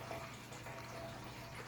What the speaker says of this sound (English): Waterfall noise.